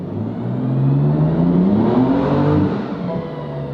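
BMW M4 on a dyno running a stage 1 tune, its engine revving up in one long rising pull and then easing off, loud and close with a smooth climbing tone.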